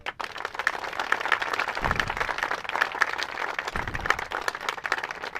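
Loud, dense applause from a crowd gathered at an outdoor morning meeting of a political front, sustained steady clapping from start to end with a few low thumps.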